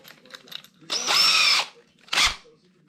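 A power drill fitted with a 1/4 inch adapter spins a dirty R/C tire in a homemade tire washer box, one sustained whir of about half a second, then a shorter loud burst. Faint speech-like sounds come before it.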